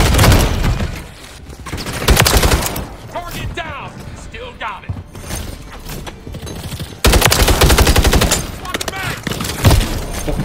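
Video game gunfire in bursts of rapid shots, loud and close, with quieter gaps between volleys and a player's voice talking over parts of it.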